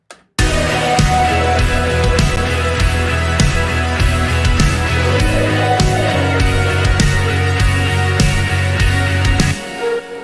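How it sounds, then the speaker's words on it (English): A full mixed song plays loudly and steadily, with punchy beat hits, bass and layered synth tones, ending abruptly after about nine seconds. "here we have a song that sounds like this"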